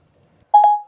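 Two short electronic dial tones from Apple CarPlay on a Kenwood DNX8160DABS double-DIN car radio, the first quickly followed by a longer steady beep that fades out, clean and alone after near silence.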